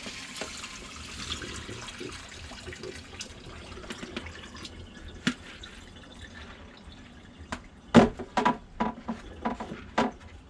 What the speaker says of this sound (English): I'm going to take a strainer and I'm going to just pour this out over the sink.